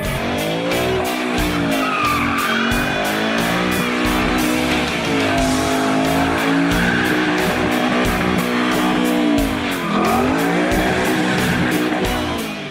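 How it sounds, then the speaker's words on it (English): Loud, sustained tire squealing from a Ford Mustang burnout, wavering in pitch over a revving engine throughout. "Whether it's squealing its tires on a burnout"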